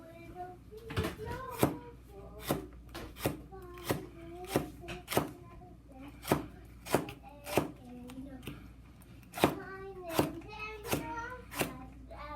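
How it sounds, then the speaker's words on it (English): Knife chopping green pepper on a cutting board in a steady run of sharp, close thuds, about two per second with brief pauses, while a voice talks quietly underneath. "Now we cut the pepper."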